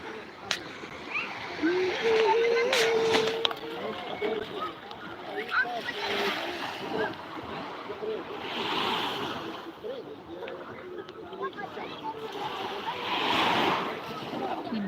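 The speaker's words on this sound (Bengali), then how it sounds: "ঢেউ" Sea waves wash onto a sandy beach in repeated broad surges, rising and falling every few seconds, with wind and a voice and other people talking over the surf.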